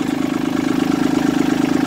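A Kubota B2650 compact tractor with loader and 523 hours idles after starting, a steady mid-pitched diesel putter with an even rapid pulse, close and constant throughout.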